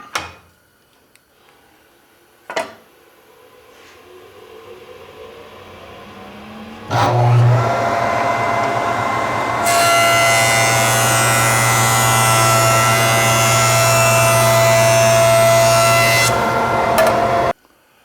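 A woodworking jointer starts with a couple of knocks, then spins up to a loud, steady motor whine and a broad cutter roar while a board is fed across it to straighten it, before the sound cuts off abruptly.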